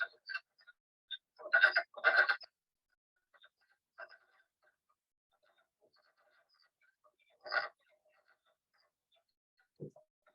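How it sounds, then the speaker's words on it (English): Wood frogs calling in spring, giving short clucking croaks in sparse bursts, a couple of them close together and others isolated, fairly faint over otherwise quiet background. "here's the wood frogs singing their songs"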